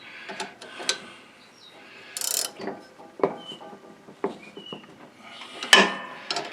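A wrench working a nut on the steering of a John Deere L, LA or D series riding mower: sparse metallic clicks and ratcheting taps close up, with brief scrapes and quiet gaps between.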